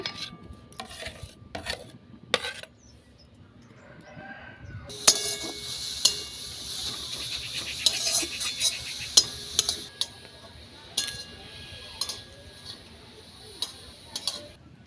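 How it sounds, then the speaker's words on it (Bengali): Grated carrot goes into a wok, with sharp metallic clinks and taps of a utensil at first, then a stretch of dense scraping and stirring broken by intermittent knocks against the pan. "কড়াই বসিয়ে দিয়ে গ্রেট করা গাজরটা দিয়ে দিচ্ছি।"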